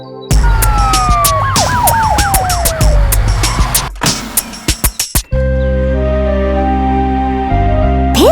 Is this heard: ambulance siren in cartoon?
yes